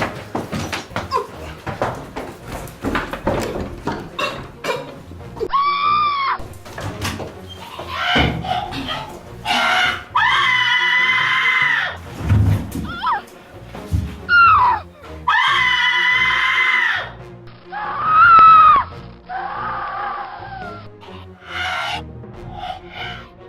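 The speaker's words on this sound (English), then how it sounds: "cries and screams were heard." Cries and screams ring out at night in a series of loud, drawn-out wailing bursts mixed with harsh shouts and scuffling noises, rising and falling over the whole stretch.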